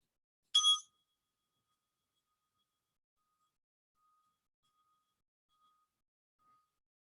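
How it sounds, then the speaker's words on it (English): A single meditation bell strikes once, clear and bright near the start, then fades quickly into near silence with only faint traces afterward. "The meditation will end at the sound of the bell."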